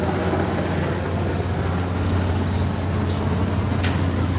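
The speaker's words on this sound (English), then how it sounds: "And there goes a helicopter flying over." A helicopter passes overhead at an outdoor balloon festival, its low steady rotor rumble filling the background as a continuous, fairly loud drone without clear changes in level.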